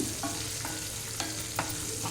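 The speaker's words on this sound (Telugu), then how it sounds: "ఇప్పుడు ఇంగువ వేస్తున్నాను నైవేద్యానికి ఇంగువ తాలింపు చాలా బాగుంటుందండి" Asafoetida crackles in hot oil for a tempering, a close, steady frying sizzle punctuated by a few sharp stirring taps against the pan.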